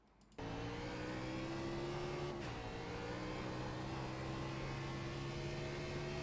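Race car engine in the iRacing sim at Sonoma starting up abruptly and holding a steady, droning rev with a brief shift dip, continuous and fairly close.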